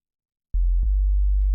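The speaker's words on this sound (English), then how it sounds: "That's what the sine wave is. It's just the fundamental harmonic." A synthesized sine-wave bass tone, fundamental only, for a tech house track, enters abruptly and holds as a deep, steady hum with a couple of soft clicks near its start.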